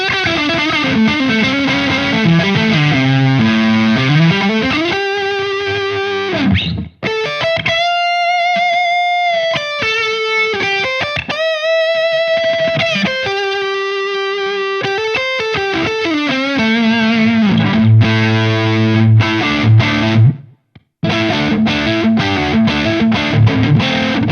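Heavily distorted Squier Classic Vibe electric guitar with Texas Hot Noiseless pickups through a high-gain Synergy Soldano SLO II amp, sustained chords and notes ringing out loud, with a couple of brief breaks and no talking.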